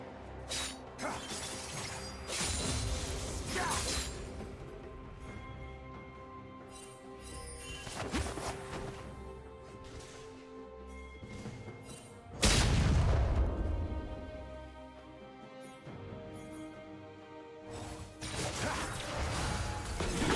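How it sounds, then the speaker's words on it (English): A League of Legends match plays out with shattering crashes and heavy booms. A strong low impact near the middle is the likely moment a turret falls, and further clashes follow over constant game noise with no speech. "Blue team's turret has been destroyed."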